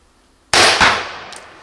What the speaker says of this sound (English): Let's load one more arrow. The next blank is already loaded, of course. I'll shoot a little higher this time.